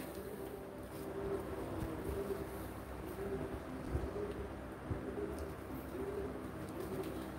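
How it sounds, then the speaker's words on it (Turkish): Turkish tumbler pigeons coo steadily at a bird auction, soft repeated low calls rolling on under a murmuring crowd and background bustle, with no clear speech. "Biz burada mezat olsun diye bu kuşları çıkarttık"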